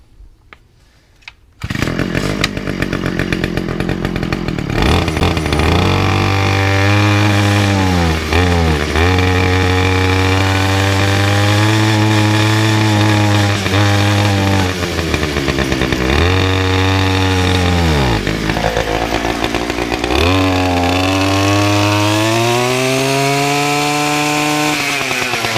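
A Hayter lawnmower's small petrol engine runs loud and close after repair, its pitch dipping and recovering a few times as it stumbles slightly low on fuel, with no talk.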